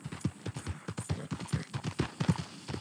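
Horse hooves clip-clop at a steady walking rhythm in the Red Dead Redemption 2 video game, moderately close and fairly quiet, with a faint hint of game ambience underneath.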